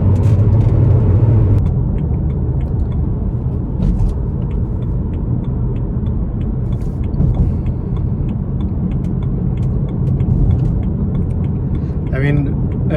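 A BMW 335i N54 M Sport Touring engine pulls under acceleration as a steady low rumble heard from inside the car, with people talking over it.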